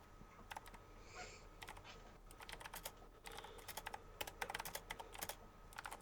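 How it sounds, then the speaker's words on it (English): Fast, intense typing on a computer keyboard, a quiet but busy patter of key clicks that builds in bursts, close to the microphone, with no talking. "Intense typing."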